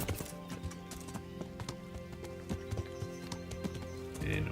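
Horse hooves clip-clop in a steady rhythm over a constant Kingdom Come: Deliverance soundtrack hum, with a brief splash of water near the end as the horse crosses a river.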